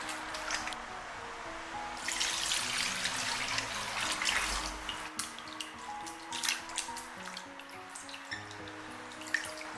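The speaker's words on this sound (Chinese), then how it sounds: "我们再将其放入流水里面冲一冲" Pork intestines rinsed under a running kitchen tap, a soft continuous stream of water with intermittent splashes and sloshing, fairly quiet and close, no talk.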